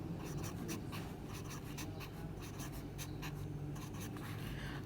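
Pen or pencil scratching out numbers by hand on paper, close and continuous with short rhythmic strokes, no talking over it.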